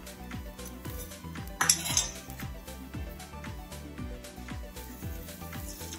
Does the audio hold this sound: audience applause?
no